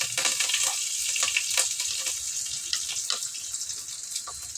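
Onion and curry leaves frying in oil in a pan with cardamom, cinnamon and cloves, giving a steady close sizzle with small crackling pops throughout and no talking.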